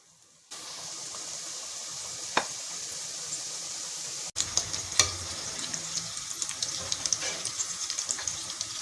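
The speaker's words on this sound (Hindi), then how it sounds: "अब हम इसमें समोसे डालेंगे और डीप फ्राई करेंगे" Mini bread samosas dropped into hot oil for deep frying: a sudden steady hiss starts, then swells into denser bubbling and crackling with many small pops, close and continuous.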